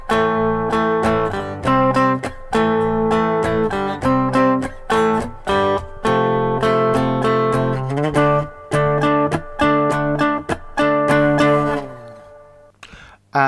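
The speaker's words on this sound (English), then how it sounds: "So this is with the power chords." A song intro strummed as power chords on a three-string guitar, bright repeated chord hits in a syncopated rhythm with short gaps, loud and close, fading on a final ringing chord.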